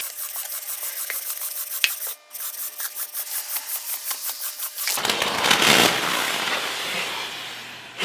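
A Holt Industries fluid extractor works with motor oil: a steady buzzing pump pulses rhythmically, then gives way to a rougher, louder gurgling rush as oil flows through.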